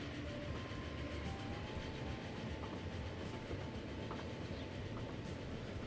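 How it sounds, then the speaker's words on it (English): A train running in Transport Fever 2, a steady rolling rumble with faint clickety-clack of wheels on rail, constant and moderately loud throughout with no talk. "But we now have faster trains."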